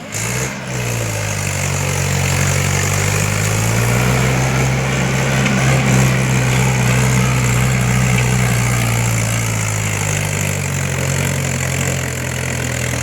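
A motor vehicle engine runs steadily up close, a loud low hum that idles and then rises slightly in pitch as if revving, holding a continuous drone for the whole stretch.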